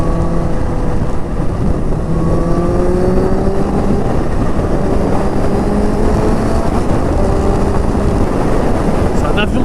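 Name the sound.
Kawasaki Ninja H2 motorcycle engine revving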